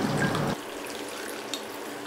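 Melted jaggery syrup is strained through a sieve into a cooking vessel for Tiruvathirai kali: a brief splashing pour up close, then a faint trickle.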